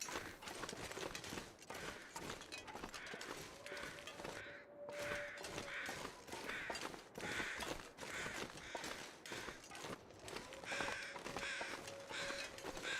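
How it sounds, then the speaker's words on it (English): Crows cawing in the snowy wilderness of The Long Dark survival game, repeated harsh calls over a constant windy ambient bed, with a brief dropout partway through and no talking. "I do hear crows over there"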